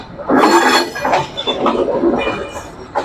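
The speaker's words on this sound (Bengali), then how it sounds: "এখন আমরা চলে এসেছি নাটোর রেলওয়ে স্টেশনে" Steady ambient noise at Natore railway station, with a broad rumble, rail clatter and scattered metallic clinks rising and falling over a few seconds. No one talks.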